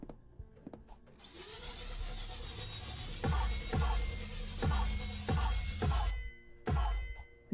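Snow vacuum cleaner running in the video game Booze Masters, a steady mechanical whir with a series of sharp repeated thumps or bangs at roughly half-second intervals, fairly loud with no talking.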